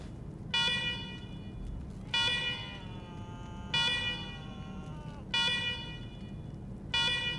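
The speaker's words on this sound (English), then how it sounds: "let's talk after you kill the alarms. I can hardly hear myself think." Repeating electronic alarms in the video game Wasteland 3: loud pulsing two-tone wails, each burst about a second long, coming roughly every 1.6 seconds over a low steady background hum.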